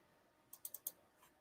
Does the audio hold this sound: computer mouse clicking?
yes